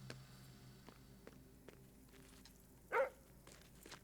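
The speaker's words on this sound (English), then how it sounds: "Why bark? No bark." A pet dog gives a single short bark partway through, standing out briefly over a quiet room with faint scattered taps and clicks.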